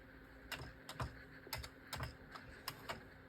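Quick, irregular keystrokes on a Commodore 64 keyboard that hangs loose from the machine, with sharp clicks landing in short clusters at close range and no talk.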